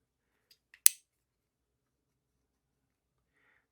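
The scissors of a multitool, a Leatherman clone, make a single sharp metallic snip, preceded by two faint clicks, then near silence with a tiny faint chirp later.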